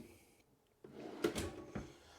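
A soft-close kitchen drawer in a 2023 Sierra 3330BH travel trailer slides shut with a few muted knocks and a gentle cushioned thud, close and quiet in a still interior.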